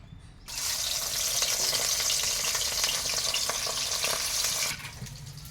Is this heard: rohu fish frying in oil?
yes